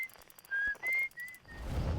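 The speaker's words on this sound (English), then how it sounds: "Oh, and someone's whistling." Whistling in the video game Outer Wilds, a few clear sustained whistled notes in a short melodic phrase at moderate loudness, followed by a rising low rumble and noise.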